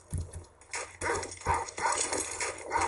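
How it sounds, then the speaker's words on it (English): Dogs bark in the Medal of Honor: Allied Assault video game, a run of loud, close, sharp barks and yelps repeating every half second or so over game noise. "There's a dog."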